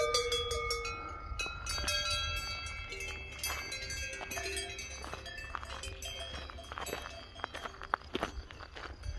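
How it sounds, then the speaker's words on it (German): A passing train on a line through the Emmental countryside in Switzerland, a rumbling rolling tone with squealing metallic tones, heard alongside close footsteps on a hiking path. "da fährt noch gerade ein Zug nach hinten."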